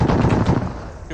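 Heavy gunfire in the military shooter ArmA 3 during a convoy training operation: a dense, loud, rapid rattle of shots that fades slightly toward the end of the short burst.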